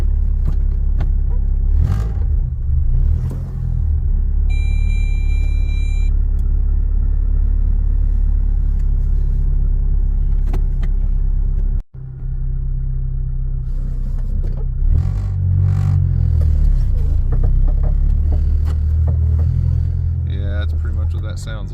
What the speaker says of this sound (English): You're going to hear it in just a second, but I believe, without looking at it, that we have a broken axle